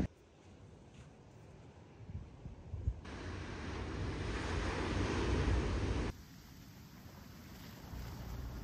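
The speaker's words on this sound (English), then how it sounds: "I was so relieved to see the ocean and hear the waves again" Ocean waves washing on a coastline, a steady broad surf roar that swells louder midway and then eases, with wind buffeting the microphone and no voices.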